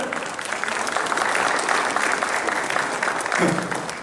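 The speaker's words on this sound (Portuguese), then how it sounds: "Vamos dar uma salva de palmas." An audience at a prayer gathering bursts into steady, dense applause welcoming a woman forward, sustained at even loudness for the full stretch with a voice briefly heard beneath it.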